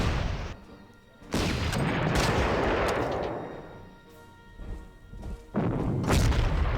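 Rocket artillery firing in Panzer Corps, several loud booming salvos with rushing roar between them, heavy bursts separated by quieter gaps, no speech.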